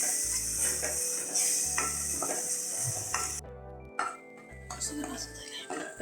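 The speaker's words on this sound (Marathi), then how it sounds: "आपण मसाले व्यवस्थित भाजून घेऊया." Whole spices roasting and being stirred in a pan for a home-style egg curry masala, with a bright sizzle and scraping strokes for about three seconds, then quieter under a steady, rhythmic music bed.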